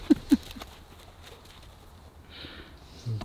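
Horses walking past with a couple of loud close hoof clops at the start, then softer scattered steps and faint rustling outdoors, no talk.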